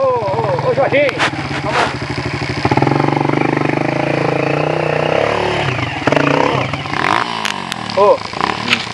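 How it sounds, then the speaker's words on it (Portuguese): A trail motorcycle revs and clatters past on a dirt riding route in Miracema, loud and close with engine rising and falling, while people talk over it. "Moto passando aqui."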